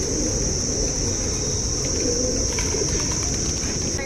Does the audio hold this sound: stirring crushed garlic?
no